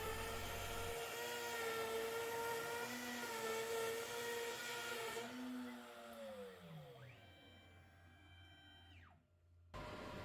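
A CNC router spinning at 14,000 RPM cuts a wood blank for a tool storage box at 1/8 inch per pass, giving a loud steady whine whose pitch sweeps down as the spindle winds down near the end.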